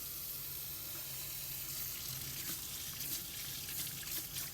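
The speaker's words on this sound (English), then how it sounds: "As long as the pump's on, you get a pressurized flow of water" Pressurized water gushes steadily from a tap in a Malibu T430 motorhome with the water pump running, a constant broadband hiss that fills the whole stretch without pause.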